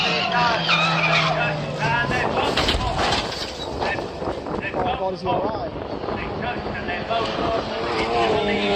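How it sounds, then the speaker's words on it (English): A motorcycle at a motorsport race crashes hard sideways into a wall, a loud continuous roar of engines and scraping noise, with a commentator talking excitedly over it. "a hard side impact pancaked the wall"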